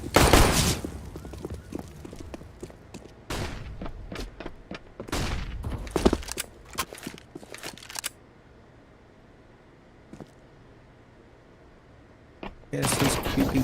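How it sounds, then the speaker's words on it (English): Bursts of rapid gunfire from a Counter-Strike esports match, including Glock pistol shots, arrive in clustered volleys that stop partway through and return at the end, with a caster's voice commenting over them. "He gets Flick, missing out a bit on his shots, but he did have a Glock"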